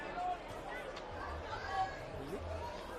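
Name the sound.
crowd noise in the background at a rugby league match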